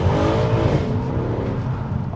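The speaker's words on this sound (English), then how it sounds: "And now we've got traction off." A 513 bhp Mercedes C63 AMG with traction control off accelerates hard, its engine roaring loud and close as the pitch climbs steadily through the rev range.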